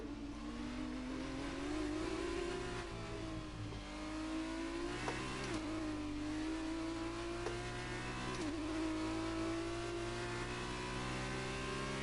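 An F2 race car in F1 2019 at the China circuit, its engine howling steadily near and loud as the revs climb, with distinct upshift drops about every three seconds.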